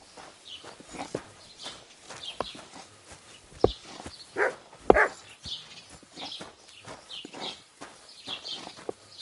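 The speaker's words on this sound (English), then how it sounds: "Good doggy. Good boy." A dog in the Kingdom Come Deliverance 2 game gives a few short barks amid footsteps and clip-clopping hooves, moderately loud over a quiet background.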